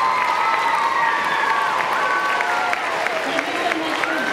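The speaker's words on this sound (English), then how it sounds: "One more round of applause," An elementary school audience gives veterans another round of applause at a salute event, steady clapping and cheering under a voice speaking over it throughout.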